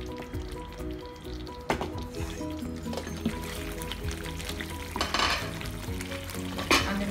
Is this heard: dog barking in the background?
no